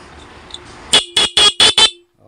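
A car's stock horn and an installed loud dual horn sound in turn, giving five loud, bright honks in a rapid even rhythm, each clipped off cleanly, followed by quiet.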